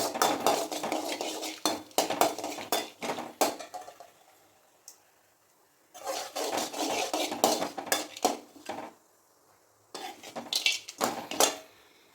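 Bay leaf and cloves sauté in melted ghee and oil as a spoon stirs and scrapes against the metal pan in clattering bursts, separated by short quiet pauses, with no talk.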